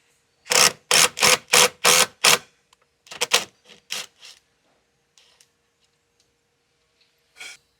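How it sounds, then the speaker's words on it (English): A riv nut is snugged into the frame of a Polaris Ranger XD 1500 using a 9/16 wrench and a 13mm socket, giving six quick, sharp ratcheting clicks, then a few scattered softer clicks and one last click after a pause. "grab a 9/16 wrench and a 13mm socket, and snug the riv nut up in the frame"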